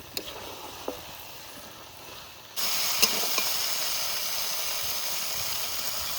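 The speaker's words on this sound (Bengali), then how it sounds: "মশলা ভালো করে ভেজে নিয়েছি সুন্দর তেল ছেড়ে দিয়েছে মশলায়" Spices fry in hot oil in a pan, a steady soft sizzle and hiss that grows fuller and louder partway through, with a few faint clinks of a utensil.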